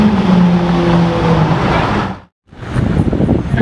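A Lamborghini Aventador S roars past up close, a loud, sustained engine sweep that cuts off abruptly, followed after a brief silence by more road and engine noise.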